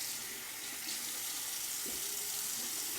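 Water runs steadily from a bathroom tap into a sink while a face is rinsed after shaving, a continuous close splashing hiss with no talking.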